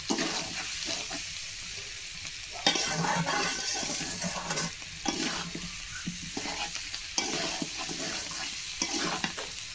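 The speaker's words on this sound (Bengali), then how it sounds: "আমি সব কিছু দিয়ে এখন ভালো করে কষিয়ে নিচ্ছি" Chicken and whole garlic cooking down in a pan, with steady sizzling frying and repeated scraping stir strokes close by, clattering at intervals, no talking.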